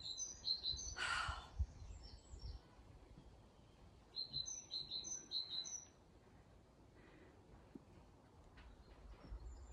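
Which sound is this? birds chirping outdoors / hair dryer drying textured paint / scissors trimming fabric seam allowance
birds chirping outdoors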